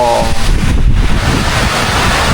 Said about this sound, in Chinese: 你看看外面，狂风肆虐。